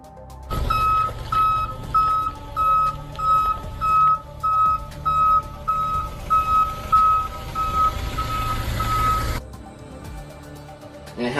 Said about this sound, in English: his truck that seems to beep and flash its lights when it backs up